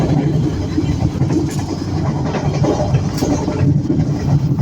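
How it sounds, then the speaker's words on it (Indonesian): Cikuray passenger train cruising near top speed past Cikampek on the Bandung–Jakarta line, heard from inside as a steady low rumble of wheels and carriage noise with no talk over it. "Kereta Cikuray lepas Cikampek lembut banget teman-teman."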